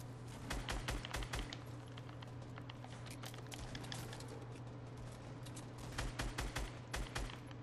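Gunfire in Fortnite, quiet and somewhat distant, with rapid clustered shots in bursts over a steady hum, recurring through the stretch.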